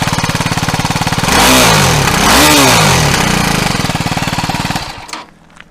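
A 2022 BMW G310 GS Rally single-cylinder engine revs up twice from a pulsing idle, pitch rising and falling with each blip, then drops back and cuts off near the end, loud and close.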